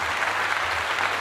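Steady applause from an audience, a dense wash of clapping that holds at an even level throughout, with no voices on top.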